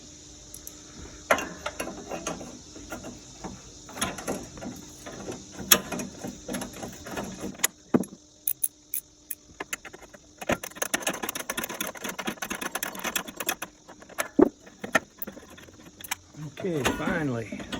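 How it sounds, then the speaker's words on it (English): A wrench ratcheting off the last bolt on a 1968 Corvette radiator bracket, close clicking ratchet strokes and metallic clinks in bursts, with a person talking between the sounds. "so I should just need to remove this one remaining bolt"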